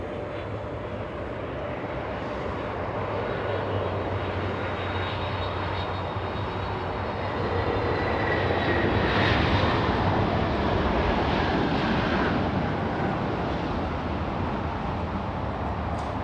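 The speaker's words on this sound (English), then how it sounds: "We have Delta 898, a big 767-400 flying in from Atlanta." A Delta Boeing 767-400 on short final into Los Angeles sends out a loud, sustained engine roar with faint whining tones, swelling midway and staying strong to the end, nobody talking.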